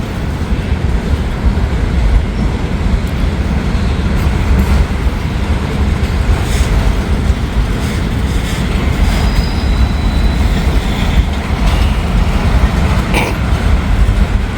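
A slow freight train, Norfolk Southern M506, crawls past on the track at under 10 mph, its steady loud rolling rumble and clatter of railcars filling the scene with faint wheel squeal, no voices heard.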